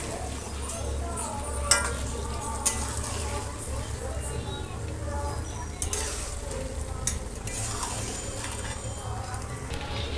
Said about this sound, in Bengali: সবটা মাংস দিয়ে দিলাম। এবার সুন্দর করে নাড়াচাড়া দিয়ে নিতে হবে।